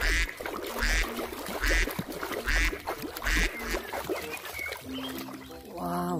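A duck gives a series of evenly spaced quacks close by, set against a busy background of splashing and handling noise, with a short tonal honk-like call near the end.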